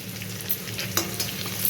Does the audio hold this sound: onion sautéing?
yes